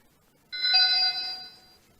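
X Sense home security sensor sounding its alert chime as the sensor is opened, a single clear electronic ding-dong tone ringing for about a second and fading, near and alone.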